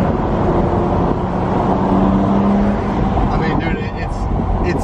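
BMW E34 M5 with the S38 engine downshifting to third, a steady loud engine drone from inside the car.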